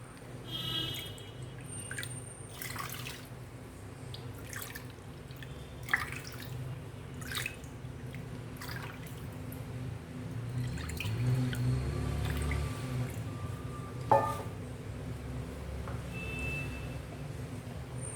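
Water poured into a pot for khichadi, 4.5 cups measured in with one cup: intermittent splashes and trickles run in several separate pours over a low steady background hum, fairly close and with no talk.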